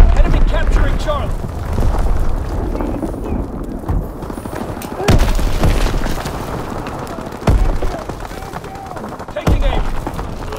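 Bombs go off in Call of Duty WWII during a WWII multiplayer battle. Several heavy booms arrive a few seconds apart over a constant rumble of gunfire and battle noise.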